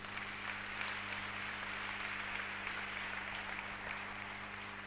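A church congregation applauding, a dense, even wash of many hands clapping that holds steady and fairly loud throughout, with no voices rising above it.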